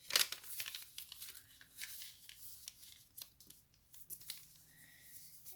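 Paper folded by hand for an origami superhero energy mask, with quiet crinkling, creasing and rustling in irregular bursts, close but faint, and no talking.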